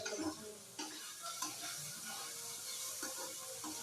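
Thin slices fry in a home kitchen pan, giving a soft sizzle with occasional stirring scrapes and light clinks.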